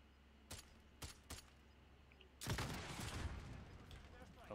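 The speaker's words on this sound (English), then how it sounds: "they're shooting" Gunfire in Call of Duty Warzone: three sharp, separate shots early on, then a loud, dense burst of rapid fire and blasts that rumbles on to the end, with brief speech faintly mixed in.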